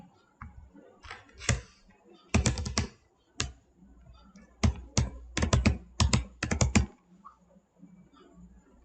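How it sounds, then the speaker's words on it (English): Password keys tapped on a computer keyboard, several quick bursts of close clicking separated by short pauses, fairly quiet in a still room. "Just type your password and then just click on sign in."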